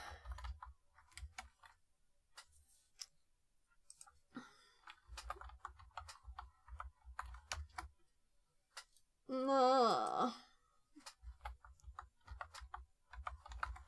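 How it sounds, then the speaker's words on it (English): Computer keyboard typing in bursts of quick clicks, fairly close, during a small soldering project, broken by a short loud tone near the middle and brief quiet gaps. "I was typing."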